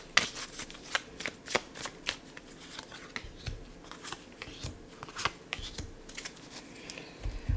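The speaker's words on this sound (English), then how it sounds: "I will now draw some tarot cards to see what else is incoming for you." Tarot cards being shuffled and drawn produce close, crisp riffling and sharp card snaps in an irregular series of quick clicks and slaps, quiet but intimate.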